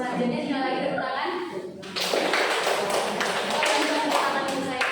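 An audience claps hands during a talk on positive school culture, a burst of sharp, uneven claps breaking in after a stretch of speech and continuing with voices still audible underneath.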